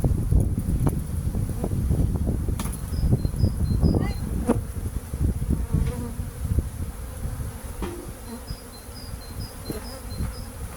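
Dense buzzing of many soaking-wet honeybees close by, steady throughout with scattered clicks and light wind rumble, and a few faint high chirps.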